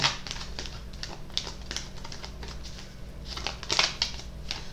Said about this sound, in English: Just gonna like shuffle these cards